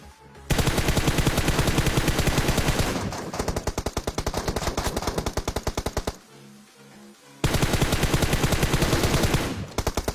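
Machine gun fire from the battle game PUBG, long loud automatic bursts of rapid shots with a short pause before another sustained burst, no talk.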